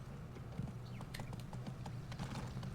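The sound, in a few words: horse hooves clip-clopping in the video game Go Vacation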